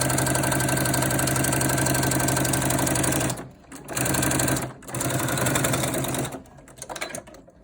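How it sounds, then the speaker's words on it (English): A sewing machine runs fast while backstitching a cloth face mask, a loud close mechanical whirr that stops briefly twice and then trails off into softer, uneven stitching at the end. "Be sure to backstitch at the top and the bottom."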